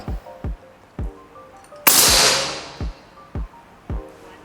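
One sharp shot from a high-powered air rifle cracks out and rings away, set among regular, quieter mechanical clicks.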